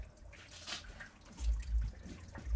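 Water from a 250ci engine pours into a bucket as coolant is drained, a steady close-up splashing trickle with a few heavier gushes toward the end and no talk over it.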